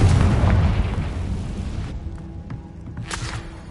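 A Confringo fire spell blasts in the video game Hogwarts Legacy, a loud booming explosion with rumbling low end that decays over a few seconds, followed by a quieter second burst near the end.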